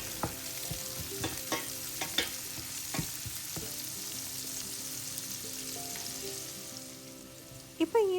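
Onion sautéing in a pan with mustard seeds and cumin, a steady close sizzle broken by several sharp clacks of a spoon stirring, with no talk.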